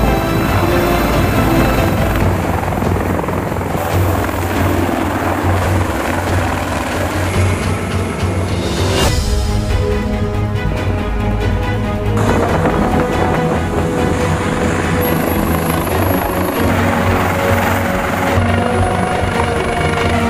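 Military helicopters, Z-8L, Z-20, Z-10 and Z-19, take off during a maritime flight exercise at sea, a loud, constant deep rotor roar with heavy thumping and wind buffeting across the whole stretch.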